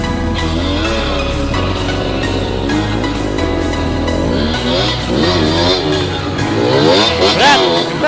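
A tractor engine revs hard under throttle while straining through off-road trail riding. It makes a loud, continuous drone whose pitch swells and sags, and voices shout faintly beneath it.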